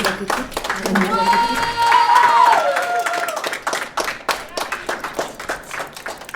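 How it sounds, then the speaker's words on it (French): Audience applause in a school auditorium at an art school, a dense burst of clapping hands with some cheering, lasting several seconds and tapering into scattered claps, with a sustained tone and voices mixed in early on. "Vous pouvez les applaudir bien fort."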